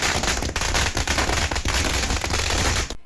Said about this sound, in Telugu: ప్రజలు స్టేషన్ వద్దకు చేరుకొని టపాసులు కాలుస్తూ సంబరాలు